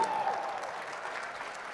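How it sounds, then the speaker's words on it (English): Steady audience applause at a color-themed charity benefit night for an auction winner, a dense, even patter of many hands clapping at moderate distance that holds throughout without a break. "And a round of applause for this young lady as well."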